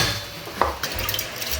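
Vegetables sautéing in a pan for veg biryani, a steady close sizzle with a few brief clinks and scrapes of a spoon stirring, heard alone over a short moment.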